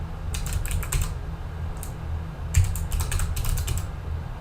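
Computer keyboard typing as a command is entered into a Minecraft command block: quick bursts of close, crisp key clicks with short pauses, over a low steady hum and no talk.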